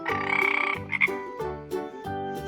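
A frog croaks in a few loud, buzzy bursts separated by short gaps, close and alone with no other sounds around it.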